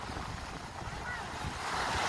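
Sea waves washing at the shore, a continuous hiss and rumble with wind buffeting the microphone, growing slightly louder toward the end.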